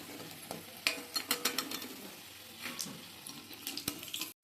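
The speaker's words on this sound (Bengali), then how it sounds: "এবার ভালো করে লাল লাল করে সব ভেজে নিতে হবে" Cauliflower fritters fry quietly in hot oil, with a soft crackling sizzle broken by irregular clinks and scrapes as they are stirred and turned. No one speaks.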